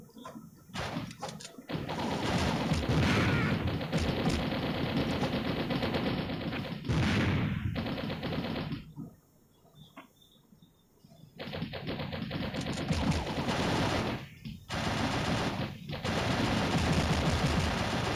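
Rapid bursts of gunfire from a character shooting while flying in the Mini Militia mobile game, loud and dense, with brief pauses between volleys.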